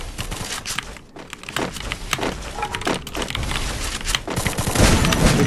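Rapid bursts of gunfire in Free Fire crack repeatedly over a steady background din, with single shots and short volleys throughout and no talking.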